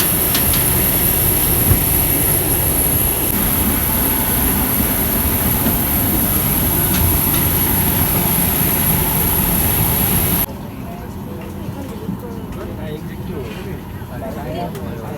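Loud steady roar of Akasa Air airliner jet engines during boarding for a Guwahati to Bangalore flight, a broad continuous drone with a high whine that drops abruptly to a quieter hum near the end.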